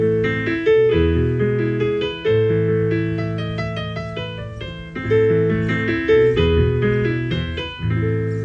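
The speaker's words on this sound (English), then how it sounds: "That's called Fur Elise." Beethoven's Für Elise played on piano, the familiar melody ringing out clearly with sustained, pedaled notes, close and alone in a steady flowing phrase.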